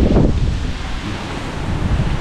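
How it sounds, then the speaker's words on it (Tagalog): Strong wind gusting hard against the microphone, a continuous low rumbling roar with a faint wash of surf beneath. "medyo malakas ang hangin ngayon mga kahaw"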